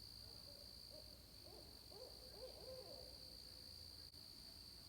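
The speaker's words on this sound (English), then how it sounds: "It's the first time I've heard the owls in the morning when I took the dogs out." Owl hooting in the early morning around 4:30 near a river beach, a short series of soft, distant hoots over a steady high hum of insects, with no talking.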